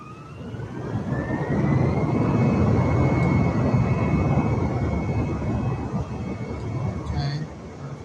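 Airplane engine at full throttle on a takeoff roll down a short runway in Microsoft Flight Simulator 2020: a loud, broad roar that swells in and holds steady, with a faint rising whine, a voice speaking briefly near the end.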